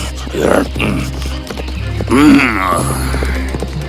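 A horse in an animated tale set in a forest lets out one loud, wavering neigh midway, surrounded by softer rustling and movement sounds.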